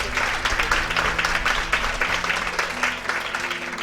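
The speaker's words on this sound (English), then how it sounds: "join me in giving a huge round of applause to Vinay and Harbeen." Enthusiastic applause fills the hall at the opening of the ALL Women Economic Forum 2015, many hands clapping loudly and steadily throughout, with a faint voice and background hum beneath the clapping.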